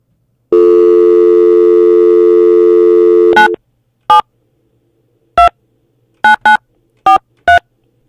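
A telephone busy signal during a call attempt on a live comedy show: a long steady tone for about three seconds, then short beeps repeating at irregular intervals, loud and clear with no talk over it.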